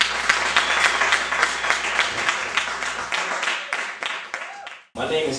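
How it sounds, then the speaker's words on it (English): Applause from a poetry open mic audience for a performer, dense clapping filling the room for about five seconds before stopping abruptly, with a brief burst of noise right after the cut. "Clap it up for poet."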